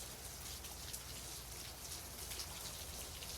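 Steady rain falls in a dense, even hiss of drops, soft and continuous with no voices or other sounds over it.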